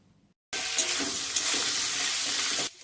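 Potatoes fry and sizzle in a pan with turmeric, chilli powder, salt and a little sugar for a Bengali cauliflower-potato curry. After a short quiet start, a loud, steady hiss runs continuously and then cuts off near the end.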